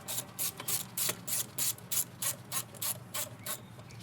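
A wrench loosens an 8mm hose clamp at the throttle body of a 2011 Subaru Outback 2.5i Limited, giving about a dozen quiet, evenly spaced ratcheting clicks close by, with no talking.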